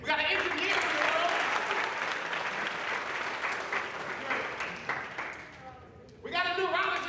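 An audience at a youth town hall event claps and cheers in a dense, loud burst of applause that fades slightly, then swells again near the end while a voice calls out over it.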